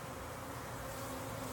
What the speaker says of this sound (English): So many bees. And just cranky little bees.